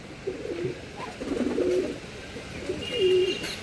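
Domestic pigeons cooing close by in a series of soft, throaty rising-and-falling calls, several overlapping phrases with brief pauses, no talking.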